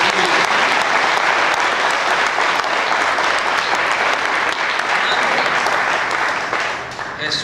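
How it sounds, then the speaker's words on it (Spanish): A church congregation claps together in dense, loud, sustained applause that fills the room steadily for several seconds before easing slightly at the end. "Vamos a aplaudir al Señor."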